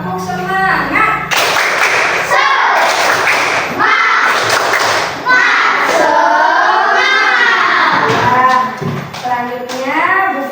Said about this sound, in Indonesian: Biar lebih semangat, tepuk semangat dulu ya.